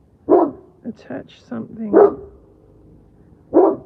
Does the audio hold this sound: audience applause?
no